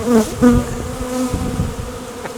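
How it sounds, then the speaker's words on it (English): Honey bees buzz loudly and close by around a hive, their droning hum swelling and fading as individual insects fly near and away. "I kind of feel like there's a lot of bees around me right now."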